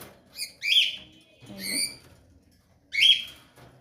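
Pet cockatiels give a few bright, sharp chirps and squawks while eating, three short bursts close by in an otherwise quiet room.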